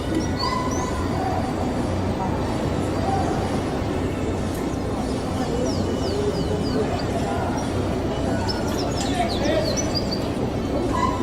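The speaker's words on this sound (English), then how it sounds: "And there's that wee bird back again." Small bird chirping outdoors in Funchal, Madeira, scattered high short calls and trills over a steady loud background of traffic and street noise.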